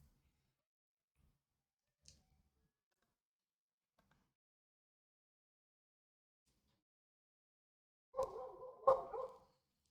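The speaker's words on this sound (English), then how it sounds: "There's a dog outside of my place." A dog barks outside a home, two or three quick barks near the end, faint and somewhat distant after a long stretch of near silence.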